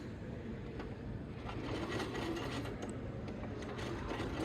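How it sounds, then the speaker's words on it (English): A steady mechanical whir with a fast rhythmic chatter, like a sewing machine running continuously, fairly close and without pauses. "This is my only sewing machine."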